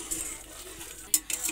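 Vegetables frying in a pan while being stirred, a soft steady sizzle close by with scraping and a few light clinks of a utensil against the pan, no talking.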